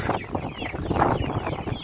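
Hens in a farmyard at morning feeding time cluck busily as a dense flock, many birds overlapping in steady close-up chatter with no voices.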